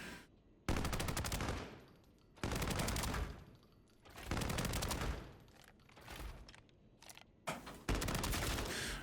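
Automatic gunfire from a weapon in the shooter game Arena Breakout Infinite, Season 4 closed beta, comes in about five loud, close sustained bursts separated by brief pauses, with no talking.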